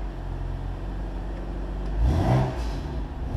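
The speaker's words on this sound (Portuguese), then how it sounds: "para mostrar o pessoal como é o barulho do veículo" A BMW M3 in Grigio Telesto grey, parked in São Paulo, idling with a low steady rumble before a short throttle blip swells the engine note around the middle, then settles back to idle.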